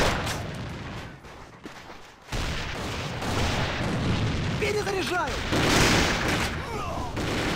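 Grenade blast in the online shooter Alliance of Valiant Arms, a sudden loud burst after a brief quieter lull, followed by continuous booming gunfire and battle noise, with voices talking over the action.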